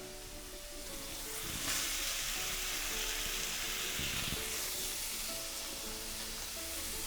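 Bacon and ham sizzling and frying loudly in oil in a hot pan, a constant crackling hiss with occasional clinks, no talking.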